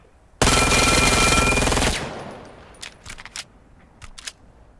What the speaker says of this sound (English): This is a really fast SMG, or AR, whichever one it is. And reloads normally.